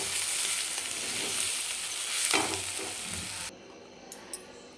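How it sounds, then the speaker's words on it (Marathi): Egg bhurji sizzling and frying in a pan while being stirred, a steady close hiss with scraping, then a sudden drop to quieter sizzle and a couple of small clinks. "छान मिक्स करून घ्यायचं."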